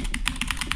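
Rapid clacking of computer keyboard keys, about seven quick strokes in under a second, close and crisp with no voices.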